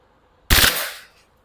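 A single short full-auto burst from a Glock 23 Gen4 BB pistol, a sharp, loud, rapid rattle lasting under a second, close up and alone against near silence.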